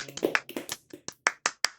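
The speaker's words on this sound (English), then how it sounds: "Clapping!" A run of sharp hand claps, around ten in under two seconds, irregular at first and then steadier, close and moderately loud with no talking.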